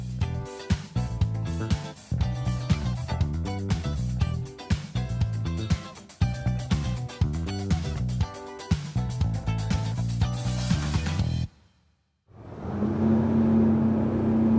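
A loud Chris Craft Corsair 34 motorboat engine roars and revs in rhythmic surges for about eleven seconds, cuts out briefly, then returns as a steady, droning engine hum.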